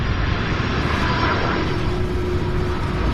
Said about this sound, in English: Oh, here's the other MD-11.